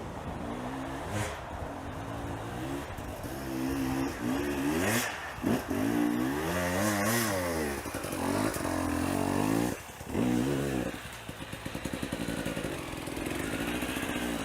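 An off-road motorcycle at a hard enduro race climbs a steep slope of loose soil and leaves, its engine revving and bogging in repeated surges. The bike stays close and loud, with brief dips and clattering bursts.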